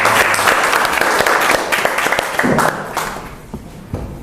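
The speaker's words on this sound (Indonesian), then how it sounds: "Terus kali ya semuanya tepuk tangan" A classroom group gives a round of hand clapping, dense and lively at first, then thinning and fading toward the end with a few scattered claps.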